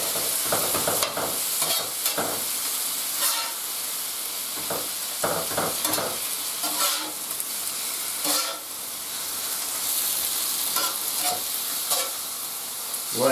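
Leftover roast beef fries in a hot pan, a loud continuous sizzle with hiss and steam, broken by scraping and clattering stirs, no voices.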